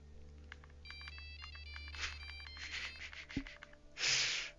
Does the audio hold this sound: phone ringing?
yes